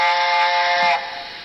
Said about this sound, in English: 9 is actually some more whistles, but you've got to do it in conjunction with function number 2